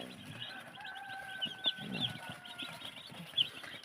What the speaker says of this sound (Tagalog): So yan ang ating mga broiler chicken.